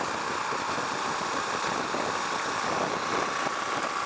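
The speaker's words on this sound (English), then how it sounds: "quick throttle blip right there in second" A Husqvarna Vitpilen 701 motorcycle runs in second gear, its single-cylinder engine a steady, close, rough drone mixed with wind rush. The level stays even throughout, with no distinct surge standing out.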